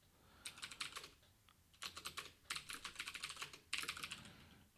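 Bursts of rapid keystrokes on a computer keyboard, close and clear, arriving in several short flurries separated by brief pauses, with no talking.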